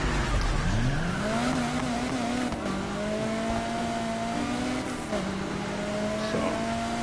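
A muscle car engine revs in a Need for Speed video game, climbing sharply in pitch then holding a steady, loud drone with shifts and brief tire squeal.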